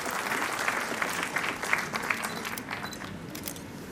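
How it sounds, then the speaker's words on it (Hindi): Loud applause from an audience at an IGNOU regional convocation ceremony in Srinagar, a dense burst of clapping with sharper individual claps standing out, gradually easing off. "दीवार के जोरदार तालियां"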